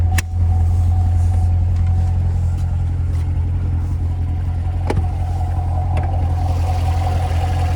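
A 2017 Chevrolet Corvette Stingray 2LT Z51 with its 6.2-liter V8 runs at a steady idle on a cold day, a deep, even low-pitched drone held close, broken by a few faint clicks.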